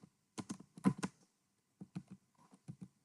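Typing on a computer keyboard while writing C code: quick bursts of close, crisp key clicks, a cluster at the start, a pause, then a few more scattered taps, fairly quiet.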